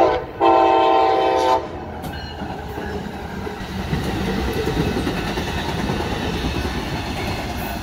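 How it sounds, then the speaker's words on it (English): An Amtrak passenger train sounds a loud stacked horn blast for about a second, then rolls past with steady rumbling wheel and car noise that continues to the end. "Oh, look, it's a little Amtrak."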